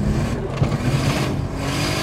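A turbocharged 3.0-litre VR6 Volkswagen Corrado accelerating hard, heard from inside as a loud, steady engine drone with a rising tone under road noise.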